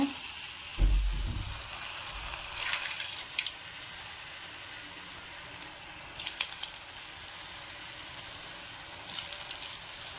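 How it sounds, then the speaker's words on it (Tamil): Smiley potato snacks deep frying in hot oil on a low flame, a soft bubbling sizzle with a brief thump early on and a few bursts of crackle along the way. "இப்போ நம்ம அந்த இதை ஒன்றா போட்டு பொரிக்க ஆரம்பிச்சிடலாம்."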